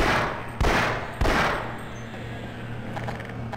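Two loud gunshots from a weapon in Half-Life: Source, about half a second apart, each with a short ringing tail, followed by quieter mechanical clicks over a low steady hum.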